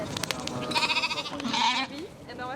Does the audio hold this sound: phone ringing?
no